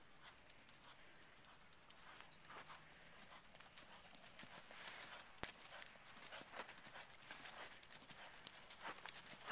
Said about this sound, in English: that's a nice canter